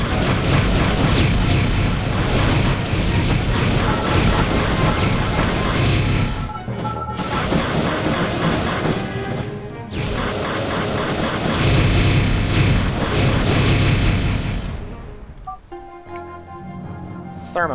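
Loud, dense crashing blasts as a target is blown up in the space game Transcendence, with rumbling debris and sharp bursts continuing before the noise tapers off.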